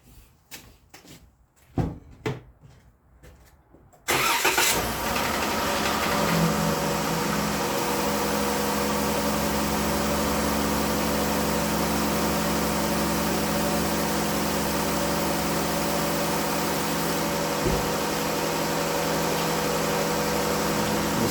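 A 2017 RAM ProMaster 1500 with the Pentastar engine, showing fault codes P0521, P1524 and P06DD, cranks and fires after a few clicks and knocks, then settles into a steady, loud idle that continues alone.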